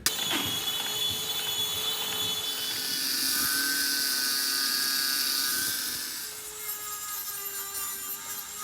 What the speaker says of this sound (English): I'm going to use a combination of router bits to router out the inverted T shape into a pattern on this plywood board.